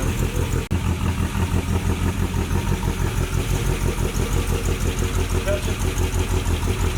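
A 1981 Pontiac Trans Am idles with noisy lifters after sitting abandoned for 18 years, giving a loud, steady, close-up rumble with a rapid ticking pulse throughout. A voice is faintly present underneath.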